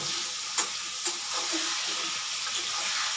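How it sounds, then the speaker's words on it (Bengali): Onions and potatoes fry in a pan, a close steady sizzle with a couple of sharp stirring scrapes early on. "এবার যতক্ষণ না পেঁয়াজটা ব্রাউনিশ কালার আসছে ততক্ষণ এটা আমি ভাজতে থাকবো।"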